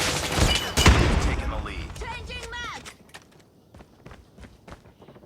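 A burst of rapid gunfire in Call of Duty Mobile opens loudly, then gives way to quieter clicks and scattered sharp taps as a voice speaks underneath.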